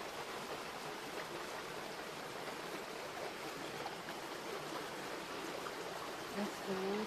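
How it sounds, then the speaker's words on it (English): An outdoor stream where children play flows in a steady, broad rushing wash of water, constant and fairly soft throughout, with no voices over it. "I'm just gonna show you that stream again."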